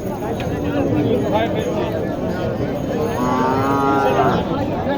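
At a cattle market at Mataji Haat in Naogaon, a very young calf moos in a long, drawn-out call amid the steady murmur of the crowd, with people talking nearby.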